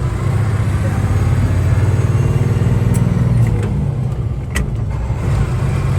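A rare classic truck driving, its engine a steady loud rumble heard from inside the cab with road noise, while people talk over it.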